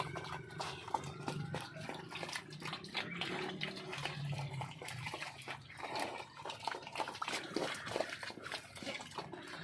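Water splashes and runs steadily across the floor of a pig pen as it is washed out, a continuous close wash of spray and trickling with scattered drips throughout.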